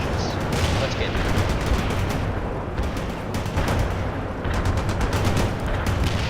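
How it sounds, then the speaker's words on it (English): Continuous heavy fire from armored vehicles in the World in Conflict strategy game, a dense, unbroken clatter of guns and blasts that stays loud throughout, with a voice talking faintly underneath. "Vehicles firing at us."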